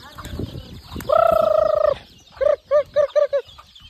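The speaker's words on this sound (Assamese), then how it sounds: "এইফালে হাঁহ এইফালে কুকুৰা আছে চাব পাৰে" Domestic fowl in a home yard where ducks and chickens are kept together: a long drawn-out call followed by a rapid run of five short, loud clucks, close by, with quieter background noise.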